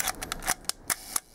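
A serviced double-stroke Leica M3 rangefinder trips its cloth shutter at a quarter second, giving a quick series of crisp, close mechanical clicks and snaps with no voices.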